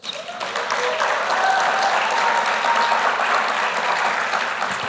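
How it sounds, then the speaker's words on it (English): Graduation ceremony crowd applauding, a loud sustained swell of many hands clapping that builds quickly and holds steady, with faint cheers or whistles rising through it. "Give her a big round of applause."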